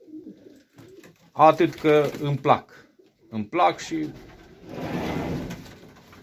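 Pigeons coo in a loft, a low throaty burbling that swells and holds near the end after someone speaks over the first part.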